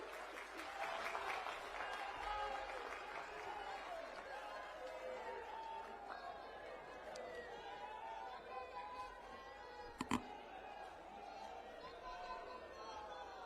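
A rally crowd in Jind, Haryana greets Arvind Kejriwal with sustained distant applause and cheering, mixed with crowd chatter and a brief sharp knock near the end.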